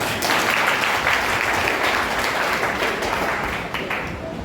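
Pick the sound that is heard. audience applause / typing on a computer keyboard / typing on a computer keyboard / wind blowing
audience applause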